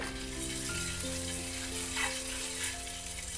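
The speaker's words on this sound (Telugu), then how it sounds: "మంచిగా ఇలా ఫ్రై చేసుకోవాలి" Eggs frying in a pan for Andhra-style egg pulusu, giving a dense, even sizzle under a low steady hum, with brief stir scrapes and no talking.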